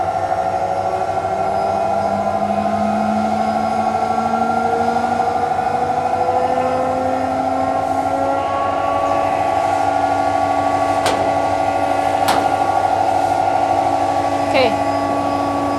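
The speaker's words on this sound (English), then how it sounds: "And the air compressor is with the inverter." An inverter air compressor for a laser cutting machine runs with a steady loud hum and rising, shifting motor tones, with a few sharp clicks near the end and a voice speaking over it.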